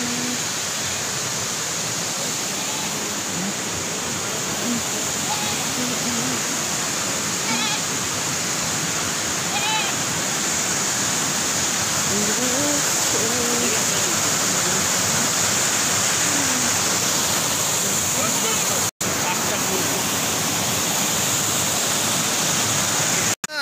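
Water at the Basistha Temple stream rushes continuously and loudly, a dense steady wash of flowing water close by throughout.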